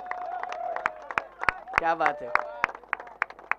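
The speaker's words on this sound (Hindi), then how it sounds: "एक बार जोरदार तालियां तबरेज के लिए" Applause and claps for Tabrez, a winning player at a sports prize distribution, come as sharp, scattered hand claps ringing out over a voice talking throughout.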